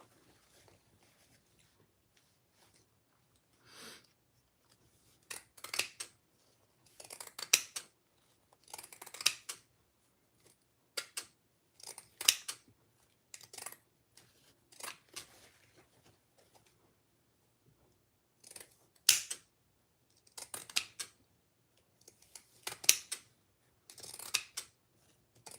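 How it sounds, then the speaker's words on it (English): Pinking shears snip through fabric in a series of crisp, close cutting bursts, grouped in short runs with quiet pauses between them. "My pinking shears actually don't like this fabric."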